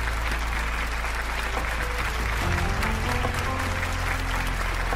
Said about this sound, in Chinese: 希望大家可以再一次给予沈宏远先生热烈的掌声